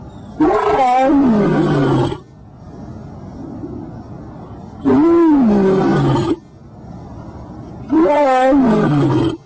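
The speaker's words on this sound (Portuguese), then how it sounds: "Olha o leão. O leão pronuncia Yau." A lion roars three times in long, loud, deep bellowing bursts separated by quieter pauses, close and with no talk over it.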